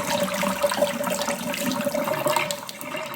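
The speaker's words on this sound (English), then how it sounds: "I'm gonna just pour off as much of the water as I can" Hot water poured off boiled eggs into a kitchen sink makes a steady rushing splash that runs without a break for about three seconds.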